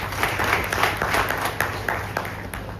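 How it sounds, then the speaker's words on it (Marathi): Loud, dense applause from a crowd, many hands clapping steadily throughout with sharp individual claps standing out, created as an artificial intelligence sound effect. "हे आर्टिफिशियल इंटेलिजन्स जोरदार टाळ्या बनवण्यासाठी."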